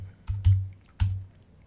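A few keystrokes on a computer keyboard during 3D animation work, three soft close taps in quick succession with quiet gaps between, no voices.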